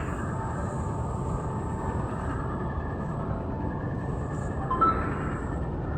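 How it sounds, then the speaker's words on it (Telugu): Railway station ambience with a train, a steady low rumble and hum of rolling stock filling the whole stretch, with a brief faint squeal near the end and no talking. "రైల్వే స్టేషన్కి వచ్చాను అన్నమాట"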